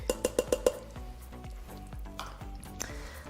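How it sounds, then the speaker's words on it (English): Cream mixture being stirred as it sautés in an Instant Pot: five quick clinks of a utensil against the metal pot, then softer scraping and a faint sizzle, with no voices. "So we're gonna mix it up really good and then just let it saute just to get a little bit thicker"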